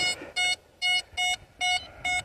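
A metal detector sends out a series of six regular electronic beeps, each a short, steady tone with brief gaps between, heard close and clear over faint background noise.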